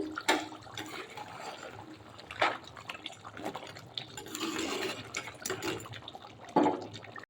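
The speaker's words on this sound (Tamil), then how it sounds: "குழம்பு நல்லா கொதிச்சு வந்துட்டுருக்கு" Crab gravy bubbling in a pot on the stove, a soft wet simmer with irregular pops and splashes, several louder bursts standing out from the steady bubbling, fairly quiet and close, no voices.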